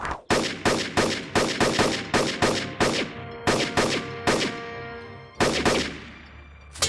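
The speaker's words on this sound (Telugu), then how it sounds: "ఆ శబ్దం వినపడిందా? ఆ తుపాకీ శబ్దం." Cartoon gunshot effects ring out in a rapid volley of a dozen or more sharp, loud reports with short echoing tails, spaced unevenly and then pausing before a final pair of bangs, with no voices.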